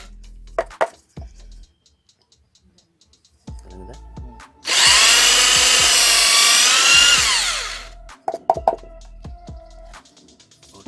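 A power drill bores a hole through a carved wooden spoon, a loud, steady whine lasting about three seconds, framed by sharp clicks and knocks of handling the wood before and after.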